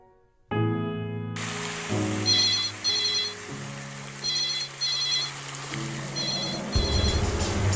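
A telephone rings during an outgoing call, a repeating pattern of paired electronic trills in short bursts over a sustained tonal music bed and a soft hiss, with no talk.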